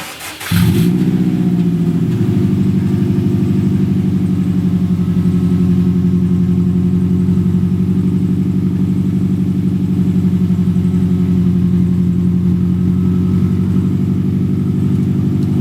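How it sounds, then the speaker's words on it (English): A 2002 Subaru WRX engine cold-starts with a brief starter crank, then settles into a loud, steady, low idle that rumbles on for many seconds, with no talking. "this is gonna be a cold startup on my 2002 Subaru WRX"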